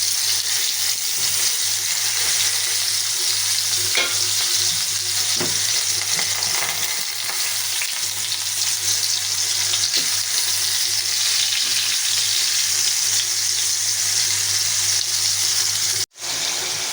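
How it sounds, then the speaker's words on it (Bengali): A steady, loud hiss of fish frying in oil in a frying pan, continuous for a long stretch with occasional faint clicks and stirring, then a brief cut near the end; no talking. "এখন ফ্রাই প্যান বসায় দিলাম, এটার মধ্যে মাছ ভাজবো।"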